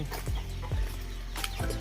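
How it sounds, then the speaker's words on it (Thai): Chickens behind a house cluck in a few short, separate calls at a moderate distance over a steady low background hum. "ไก่ก็ร้องจังนะครับ"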